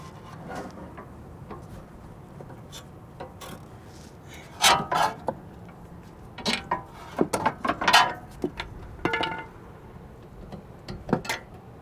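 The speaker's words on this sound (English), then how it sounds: "Then I'm going to put a pry bar underneath to stabilize and lift it up and take the" A pry bar scrapes and knocks against metal while lifting a suspension link out of a BMW Z4 front strut assembly, producing scattered close clanks and rubbing sounds in irregular clusters.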